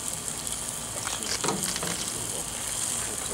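Chicken kabobs sizzle steadily on a Lodge charcoal hibachi grill, a close, continuous frying hiss with a brief louder crackle in the middle, no voices.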